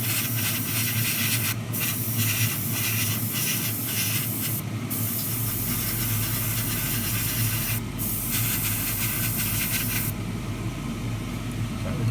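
Steady airbrush spray hiss of a light base coat going onto 1:24 Tamiya Ferrari LaFerrari model chassis parts, continuous and close, with brief breaks and short bursts as the spray starts and stops.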